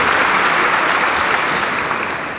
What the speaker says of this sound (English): can we have a round of applause for the not-for-profit organization that submitted this year?